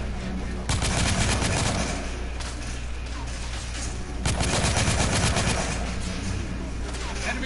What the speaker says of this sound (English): I'm taking suppressing fire.